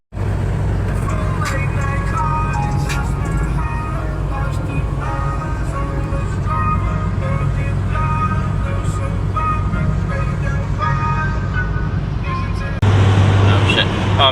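A 1991 Celica drives slowly through a road construction zone, with a continuous engine and tyre drone, steady road noise and some tonal sounds over it, ending in a louder low hum.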